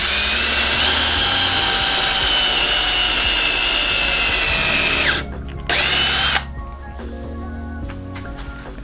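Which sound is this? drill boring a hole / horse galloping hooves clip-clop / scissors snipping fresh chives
drill boring a hole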